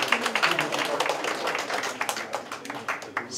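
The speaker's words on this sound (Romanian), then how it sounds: "Aplauze și pentru moșii noștri" Applause from a party audience, a dense patter of many hands clapping steadily for the whole stretch, moderately loud and close, with voices faintly mixed in.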